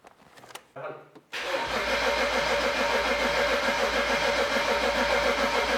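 A fire-damaged BMW 335i cranks briefly, catches and settles into a loud, steady idle. The engine is close and runs alone, with a deep, even rumble.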